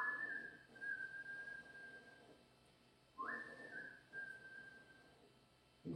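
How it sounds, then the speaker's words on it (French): A person whistles loud, sustained high notes in two long phrases separated by a short pause, standing out clearly over a quiet background with no talking. "Il se met à siffler plus fort."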